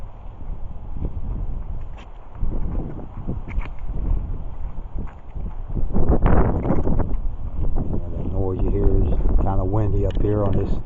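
Wind gusts across a microphone on a small hilltop cemetery, rumbling and buffeting low and loud throughout, with someone talking over it toward the end.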